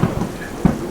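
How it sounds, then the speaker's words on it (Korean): Heavy rain pours down with a low roll of thunder in a Korean audio drama's stormy night scene, a brief, steady wash of downpour with no voices. "비가 이리도 쏟아지는 날에 어디를 가십니까?"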